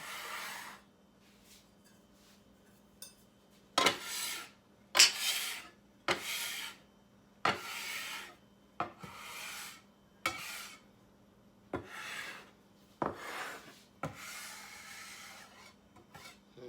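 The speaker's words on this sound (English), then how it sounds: "I just take my little scraper and scrape up all the excess flour." A small scraper is dragged across a counter to clear excess flour. About a dozen separate rasping scrapes come in an irregular rhythm, close and fairly loud, with quiet gaps between strokes.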